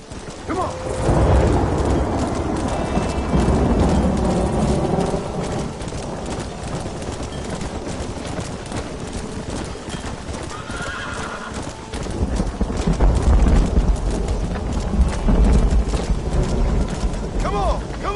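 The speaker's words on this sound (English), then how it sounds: "We have to stop the stampeding!" Stampeding horses galloping in the video game Red Dead Redemption, a continuous loud rumble of hooves with whinnies over it and excited shouting voices throughout.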